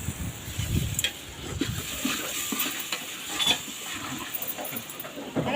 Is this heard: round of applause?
no